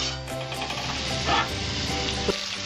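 Fenugreek seeds frying in hot oil for Bengali-style kalmi saag, a steady, close sizzle with a brief clink near the end.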